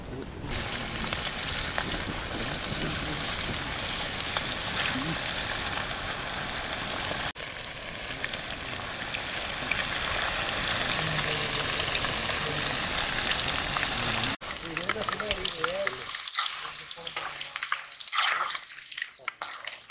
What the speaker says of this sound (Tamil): சிக்கன் பொரிக்க போகிறோம்.